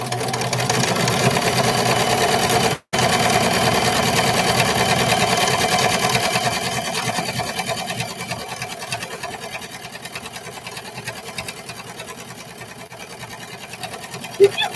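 A sewing machine runs steadily while stitching the legs and top of a pair of short pants, loud and continuous with one brief stop near the start, then a slightly softer, more uneven run.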